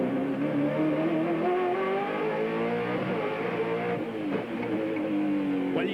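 On-board sound from a Ford Falcon V8 Supercar racing on the Wellington street circuit, 1996, a loud steady engine roar holding mid revs with gentle pitch shifts as it rounds corners, no talk.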